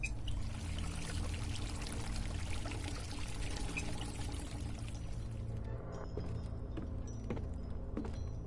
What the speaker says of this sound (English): Judging by these pipes, I'd say this valve controls the water going into that tank back there